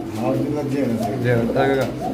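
Spanish-breed pigeons at a pigeon farm give low, repeated throaty coos close to the microphone, rising and falling in short phrases over steady background noise.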